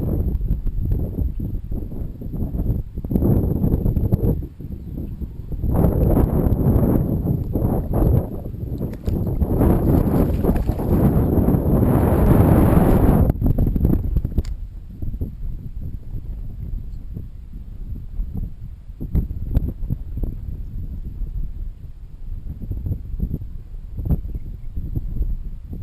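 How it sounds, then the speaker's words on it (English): Steady wind blowing across a lake bank during bass fishing, a continuous broadband rush that swells loudest in the middle and eases later, with faint rustling underneath. "The wind's been blowing in this bank now for at least 2 days."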